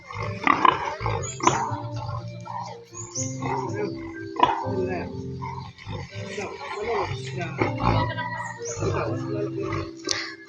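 Pigs grunt and squeal in bursts while a pig is weighed at a farm in Infanta, Quezon, with dog-like yelps and clattering handling noises. People talk over the animal noise throughout.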